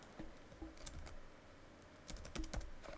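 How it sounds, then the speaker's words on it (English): Typing on a computer keyboard during Photoshop work: two separate bursts of quick, fairly close key clicks separated by a short pause, with no talk. "Let's type something."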